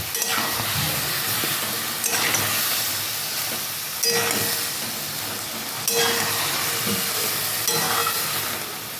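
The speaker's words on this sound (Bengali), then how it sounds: "পোস্ত আর সর্ষে বাটাটা দিয়ে আবারও একটু আমি এইভাবে নাড়িয়ে নেব" Poppy seed and mustard paste sizzles in a pan while being stirred, with a loud, continuous frying hiss and rhythmic scraping sweeps that recur about every two seconds.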